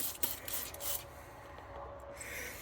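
Scrubbing and rubbing on a dirty Toyota Tercel shifter part at a workbench, a close rasping scrape in quick strokes for the first second that eases into softer, quieter rubbing.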